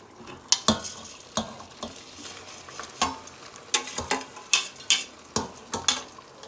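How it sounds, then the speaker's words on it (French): Pre-cooked rice is stirred into a pot of fish, carrot and chili for tiebou dieune, with repeated sharp spoon scrapes and clinks against the pot over a low sizzle, close and fairly loud. "Maintenant, je vais rajouter le riz."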